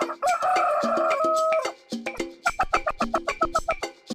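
A chicken sound effect: a drawn-out crowing call opens, followed by a quick run of sharp, rhythmic clucks, close and clean with no other sounds.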